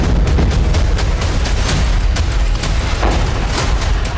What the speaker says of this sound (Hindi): लिपेत्स्क में ड्रोन हमलों के बाद पहला धमाका एक बिजली सब स्टेशन पर हुआ।